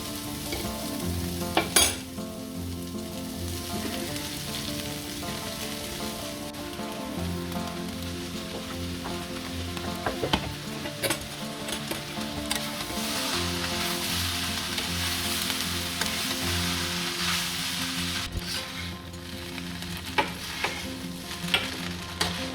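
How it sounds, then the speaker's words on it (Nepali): Chow mein noodles stir-fry in a pan with dried chili in a home kitchen, giving a strong, continuous sizzle with repeated scraping and tossing, close and steady throughout with no voices. "चाउमिन राखेँ है त मैले।"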